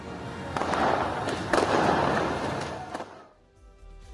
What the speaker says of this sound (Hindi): तेहरान में आतिशबाजी की गई।